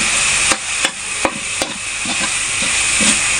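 A cheesy spaghetti sauce seasoned with pepper powder is stirred in a pan over a loud, steady hiss, with four or five distinct spoon knocks near the start and softer stirring afterward.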